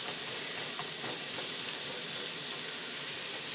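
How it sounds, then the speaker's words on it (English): Onions and garlic fry in leftover bacon fat in a pan, giving a steady, even sizzle and hiss that continues without pause. The sizzling is close and fairly quiet, and nobody speaks over it. "leaving enough to fry our onions and our garlic"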